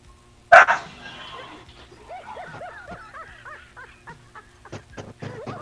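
A dog barks sharply up close indoors at night, followed by a string of whining, whimpering yelps and a few shorter barks, with faint voices in the background.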